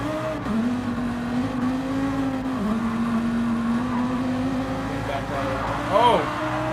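Race cars braking late and accelerating in the Gran Turismo 7 video game at Tokyo, a steady engine drone rising and dipping with a brief squeal near the end, under commentary voices.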